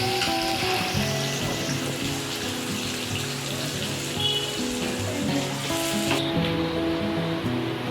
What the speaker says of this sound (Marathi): कांदा ब्राऊन होईपर्यंत भाजायचा.